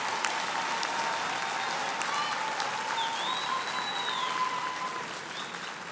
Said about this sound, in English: Please give another round of applause to our students in the Faculty of Humanities.